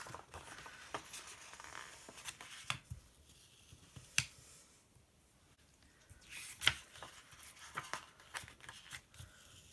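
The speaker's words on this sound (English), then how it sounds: "Luckily these stickers are coming away okay." Stickers being peeled off a bullet journal page during Easter spread planning, giving faint, sporadic crisp ticks and soft tearing rustles spread across a quiet room.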